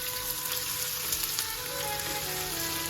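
Onion and garlic fry in olive oil for a chicken liver dish, hissing in a continuous, even sizzle close by with no voices.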